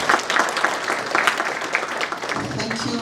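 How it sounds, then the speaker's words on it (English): Audience applauding panelists at a technology and innovation international conference: a dense, steady wash of many hands clapping that lasts the full three seconds and fills the room. "Please, let's clap for our panelists."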